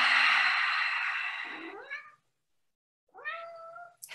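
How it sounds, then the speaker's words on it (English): A pet cat meows twice nearby, first a long drawn-out cry that bends downward and trails off, then after a brief silence a shorter, clear meow. "Sorry, that's my cat."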